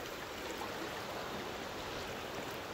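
Creek water swollen by runoff from a nearby waterfall rushes steadily as a broad, even hiss and roar, constant and fairly close with no voices.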